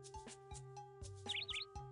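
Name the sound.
Xenops bird call in video game Stanley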